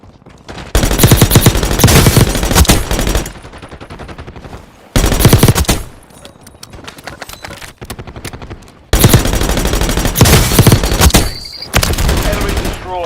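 Rapid bursts of Grinkova pistol fire in Call of Duty Warzone Mobile, loud repeated shot strings separated by brief quieter gaps, with game sounds between volleys.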